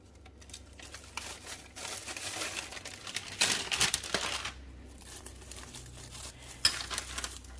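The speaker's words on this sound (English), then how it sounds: "And then I just take my sheets out." Sheets pulled out of an opened package in a home kitchen while preparing a quick lunch, with soft crinkling and rustling of wrapping and paper that grows a little louder midway, close and fairly quiet, with no talking.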